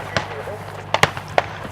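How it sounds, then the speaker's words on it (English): Sharp rifle shots from a nearby rifle range ring out at an outdoor sports and classic car festival, several distinct cracks in quick succession, a couple close together, with a low engine-like drone underneath. "If you can hear rifle shots, bullets zipping in the background, well, that's because we are actually on a rifle range."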